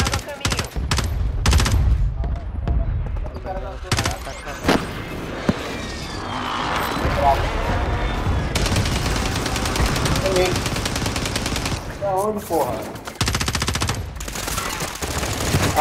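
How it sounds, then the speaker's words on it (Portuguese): Allied air strike in a Call of Duty video game: rapid heavy gunfire and explosive bursts in dense clusters, loud and continuous with short gaps, with a player's voice talking over the battle noise. "Ataque aéreo de um aliado."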